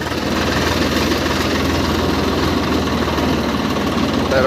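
A Swaraj 855 FE tractor engine idles steadily with a loud, close, low diesel throb and a constant rattling vibration, running alone without pause.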